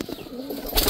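A recorded pigeon or dove cooing plays from a loudspeaker, a short, close, fairly loud burst of soft call notes with a hissy playback tone and a rising noisy swell at the end, with no talking.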